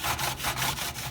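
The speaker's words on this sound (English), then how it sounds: "go ahead and grate them with a box grater" Beets rubbed against a box grater, quick rhythmic rasping strokes, about six scrapes in just over a second, close and fairly quiet.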